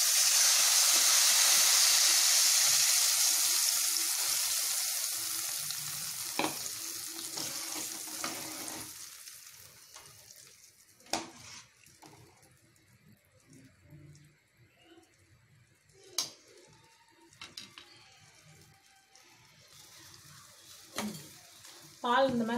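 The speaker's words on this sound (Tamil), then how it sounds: "பால் இந்த மாதிரி நல்லா கொதிக்க ஆரம்பித்ததும்" A steady hissing bubble of milk boiling in a pan for bread halwa fades into quieter clinks and stirring sounds, with occasional sharp taps against the pot.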